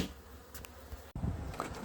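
Honeybees buzzing around a transparent hive after being sprayed to calm them, a faint steady hum with a short gap, then louder close buzzing and light handling noises.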